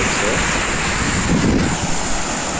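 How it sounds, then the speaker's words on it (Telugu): Surf at Ramatheertham beach rolls in as a steady, continuous wash of waves, with wind buffeting the microphone throughout and no people talking nearby. "బీచ్ అయితే ఇలా ఉంది. ఎవరు లేరు."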